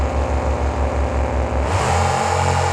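Monster trucks launch off the start line in a race, a loud, close engine drone that surges into a rising rev as they accelerate away.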